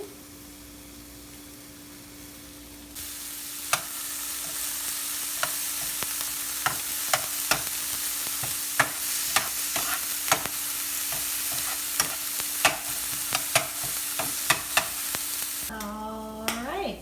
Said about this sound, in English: And then we're going to start sauteing the green pepper that I've diced up.